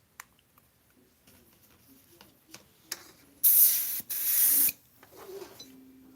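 An airbrush sprays paint in two sharp, close bursts of hissing air, each about half a second long, after a scatter of small clicks and taps.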